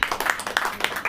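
A church congregation claps during a Hindi sermon, with a run of several quick, fairly close handclaps in an uneven rhythm and no talk over them.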